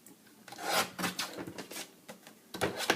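A paper trimmer slices through card stock with a few close, dry rasping strokes, quiet and brief, with no voices.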